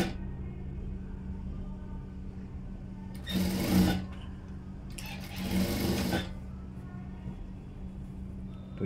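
A sewing machine stitches a blouse shoulder seam in two short, fairly quiet bursts of fast whirring, separated by a pause over low background hum.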